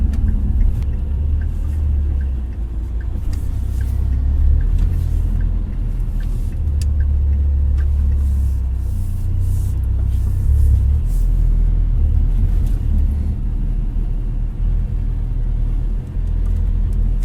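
From inside a moving 2024 Lotus Emira First Edition, the 2-liter turbocharged four-cylinder gives a steady, loud, low engine rumble with road noise throughout, no voices.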